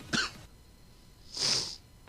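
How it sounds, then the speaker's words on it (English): Two short, close nasal sniffles, one quick burst followed by a second, longer one after a brief pause, with no talk. "Sorry for the sniffles again."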